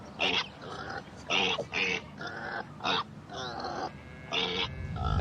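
A pig gives a series of short grunts and snorts in irregular bursts, close and fairly clear, with no speech over it.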